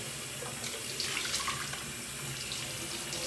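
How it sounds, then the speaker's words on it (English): Water rushes steadily through a Keurig coffee maker as it is rinsed of bleach water after a deep cleaning, a constant close splashing hiss with no talking. "So I'm just gonna basically rinse this thing out, make sure that all of my bleach water is out of there."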